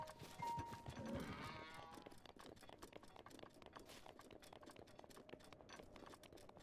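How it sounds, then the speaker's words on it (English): A goat in The Legend of Zelda: Breath of the Wild, Master Mode, gives a faint wavering bleat early on, followed by quiet rapid tapping and clicking. "Dude, he's coming after me, stupid goat"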